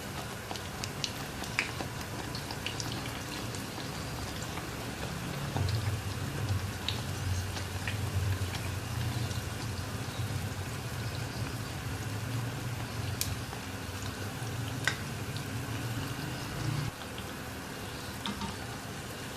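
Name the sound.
poori paratha frying in oil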